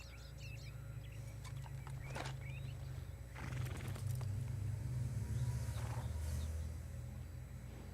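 A horse stands in place, hooves clip-clopping and shuffling at moderate distance, with a whinny and some birdsong in the open air, no talk.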